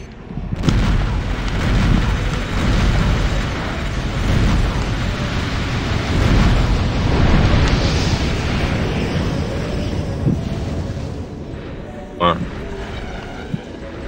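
Grenade blast in a multiplayer shooter video game, a loud booming explosion with rumbling debris that rolls on for several seconds, followed by a sharper burst, under a player's voice chat.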